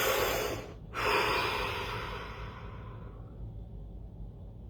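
A slow, deep breath, a long airy inhale and exhale close up that fades off into near silence, with a brief gap early on; no words are spoken.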